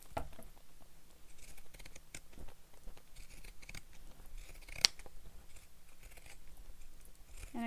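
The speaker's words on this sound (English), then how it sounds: "And I'm using my pinking shears here." Pinking shears snip through fabric to trim a curved seam allowance while sewing a bag, giving faint, irregular crisp clicks and cuts in a quiet room, with one sharper snip partway through.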